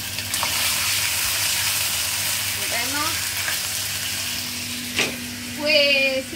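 Rice and chicken fry in a pan while being stirred, giving a steady loud sizzle throughout with scraping stir strokes and faint clinks near the end. Voices talk faintly under it.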